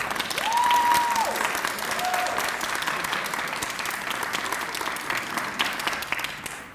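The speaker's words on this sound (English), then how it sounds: "So if you're faculty and staff, please stand so we can give you a round of applause." Audience at a scholarship breakfast applauding faculty and staff, a sustained wash of clapping from a sizable crowd with a couple of brief whistles near the start, steady and fading slightly over time.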